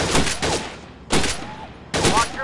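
Gunshots fired at targets at a gun club crack out in three sharp, loud bursts, each followed by a brief decay, with short gaps between them.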